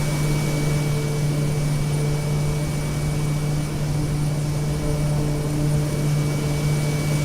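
Turboprop cargo plane with an underslung cargo pod idling in Microsoft Flight Simulator, a constant steady engine drone with a fixed tonal whine, running alone without any talk.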